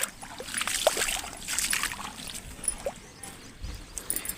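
Water pours and splashes unevenly from a running motor pump outlet on a farm, a close, irregular gush with brief louder spurts.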